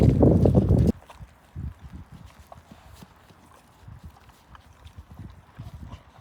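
A horse walks in an eventing arena, hooves thudding in an irregular clip-clop rhythm at close range after a short loud burst at the start.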